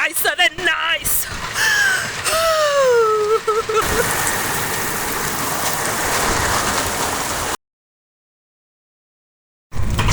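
Steady rain falls outdoors with a continuous broadband patter. A voice and some whistling tones sit over it at first, then the rain continues alone before the sound cuts to silence.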